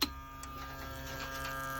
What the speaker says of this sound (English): So here's our 1963 vintage ignition coil tester.